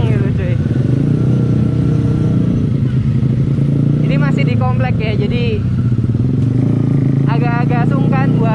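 A custom motorcycle built around a Yamaha Byson engine rumbles steadily while riding through a residential complex, with a loud, constant low engine drone as someone talks over it.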